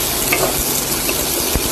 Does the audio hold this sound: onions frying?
yes